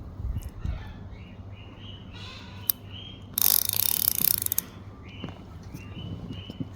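Drag of a spinning fishing reel clicking rapidly as line pulls out, a loud buzzing ratchet burst in the middle, with quieter mechanical clicks before and after and faint birdsong outdoors.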